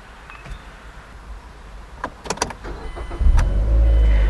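A 2008 Mazda MX-5 Miata with keyless start: a few faint clicks and whirs from inside the car, then the engine catches and settles into a steady, loud low idle for the last second.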